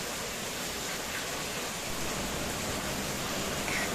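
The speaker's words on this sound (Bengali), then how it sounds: "প্রচন্ড বৃষ্টি হচ্ছে।" Heavy rain pours down outside in a dense, even hiss, steady and unbroken with no voices over it.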